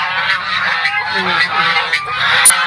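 Several geese honk close by in a steady, overlapping chorus, ending with a brief higher squawk.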